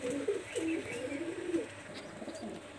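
Pakistani high flyer Teddy pigeons coo softly nearby in repeated rolling phrases, a faint, low warbling with short gaps between calls.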